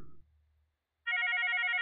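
A Mitel 5324 IP phone rings close by with a steady, bright electronic tone that starts after about a second of near silence and continues unbroken.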